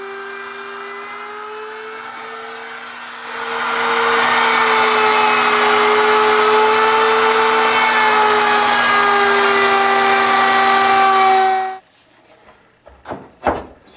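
A router cutting the shape of a ski core with a PTEX base underneath: a loud, steady motor whine that rises as the bit bites into the workpiece, runs evenly for several seconds, then cuts off, followed by a few clunks.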